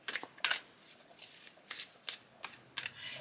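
Wild Kuan Yin oracle cards shuffled by hand in a series of crisp, papery bursts, several quick riffles and slides in uneven rhythm, close and fairly quiet with no talking.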